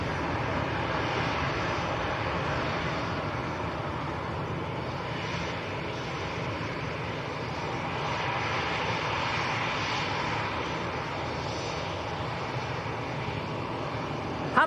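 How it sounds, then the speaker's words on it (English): An EasyJet passenger jet bound for Amsterdam at Manchester Airport, its engines giving a steady, moderately distant roar that holds evenly for the whole stretch without voices. "This is EasyJet to Amsterdam"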